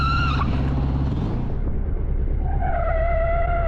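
A motorcycle skids on the road as the rider loses control, a loud screech of tyres over a revving engine whose pitch drops and then climbs again, close and alone.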